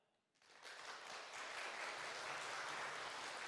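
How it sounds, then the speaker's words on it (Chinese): An audience applauds to welcome Shenzhou-14 astronauts for a lecture from the Wentian lab module of the Chinese space station, with clapping that starts abruptly after a quiet moment and holds steady as a faint, distant wash. "让我们用最热烈的掌声欢迎航天员老师们"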